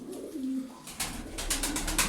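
Domestic pigeon giving soft, low throaty coos close by, a drawn-out call followed by a pulsing repeated coo, with faint rustling in the background and no talk.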